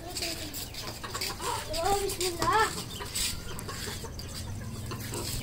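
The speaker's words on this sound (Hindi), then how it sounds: "यहाँ से नीचे से निकल गई मुर्गी" Hens cluck in short, rising calls amid a noisy outdoor background, with a few clucks standing out nearby over a steady rustle.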